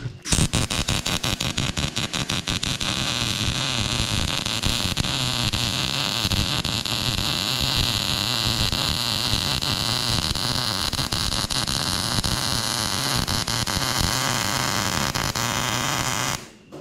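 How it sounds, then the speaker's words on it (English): Arc welding on a utility gooseneck trailer build in a shop, a loud, continuous crackling sizzle that holds steady for about sixteen seconds before cutting off abruptly, close up with no talk. "we're gonna watch him weld this here real quick"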